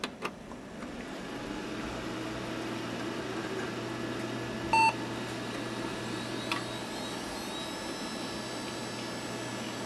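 An old hard drive from 2001 whirs and spins up with a rising whine, a brief electronic beep partway through, over a low steady hum.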